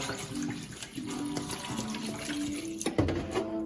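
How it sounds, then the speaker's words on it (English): Water is poured over sea moss to rinse it, a steady close splashing stream with gurgling bursts and a louder splash near the end, with no talk. "First rinse for this is simply, you just pour the water in there."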